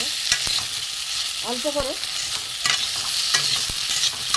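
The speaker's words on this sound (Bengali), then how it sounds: "দেখুন লাল লাল করে আমি ভেজে নিচ্ছি" Pointed gourd pieces fry in oil until reddish for a fennel-flavoured potol dish, a constant sizzle broken by sharp spatula clicks and scrapes as they are stirred, with a brief spoken phrase early on.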